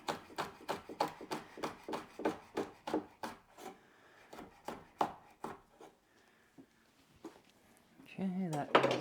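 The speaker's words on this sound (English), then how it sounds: "I'm just gonna cut these into little slices." A knife slices chilies on a cutting board in quick, regular taps for several seconds. The cuts then slow to a few scattered strokes, and a voice comes in at the end.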